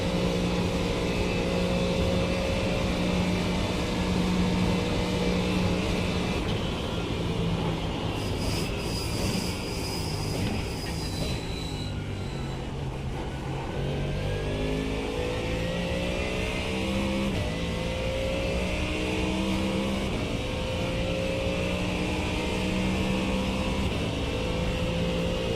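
Ford Mustang GT3 race car in a Nurburgring endurance video game race, its engine droning steadily and loud throughout while tucked in another car's slipstream, with shifting pitch and brief high whine, no talk.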